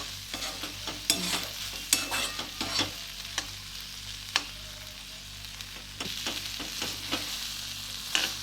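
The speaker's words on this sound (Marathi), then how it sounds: "परत एकदा मिक्स करून घ्यायचं" Tomato bhaji with a little crushed peanut frying in a pan, a soft steady sizzle under repeated close scraping and clacking strokes of a spoon stirring, no talk.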